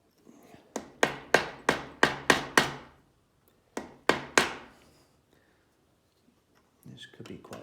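Sharp metallic chisel strikes on a 1972-1982 Suzuki RV125 two-stroke engine during strip-down, a quick burst of six evenly spaced blows, a pause, then three more, fairly close, with faint background noise after.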